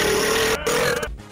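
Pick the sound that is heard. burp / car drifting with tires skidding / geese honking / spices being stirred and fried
burp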